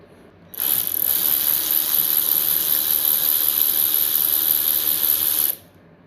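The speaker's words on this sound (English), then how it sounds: "one thing I do want to do is pull out all the glow plugs" A ratchet wrench works on glow plugs in a 2004–2006 Mercedes Sprinter diesel engine, giving a continuous close, high-pitched mechanical whir for about five seconds with no talk.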